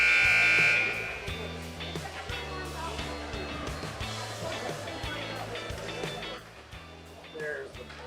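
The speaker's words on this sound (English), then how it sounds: "There's the buzzer." A loud, sustained electronic buzzer blares at an ice hockey arena to end a period during a youth Squirt A/PeeWee B game, lasting about a second before giving way to crowd noise and a commentator speaking.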